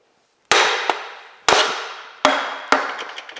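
Four sharp hammer blows land on a wood block to drive a cylinder sleeve out of a Massey Ferguson tractor engine block, each loud crack ringing out and decaying before the next strike.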